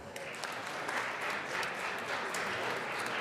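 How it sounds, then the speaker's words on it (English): Applause for guests in the Colorado House legislative chamber, a soft, distant, even patter of many hands clapping across a large room. "Let's give them a round of applause."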